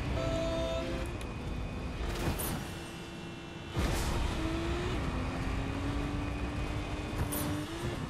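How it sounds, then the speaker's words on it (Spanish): A BMW car driving in the Fortnite video game gives a steady, moderately quiet engine hum whose pitch shifts and slides, with a few brief whooshing swells along the way. "Tío, me mola el BMW."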